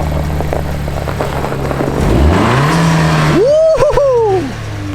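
A Toyota Soarer engine runs loudly nearby while warming up, its pitch rising as it revs, then dropping back to idle.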